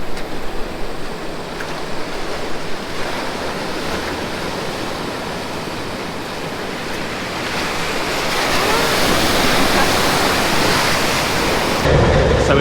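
Surging water at an artificial surf wave lagoon in Snowdonia National Park, a loud continuous rushing wash that swells louder toward the end, with no talking over it.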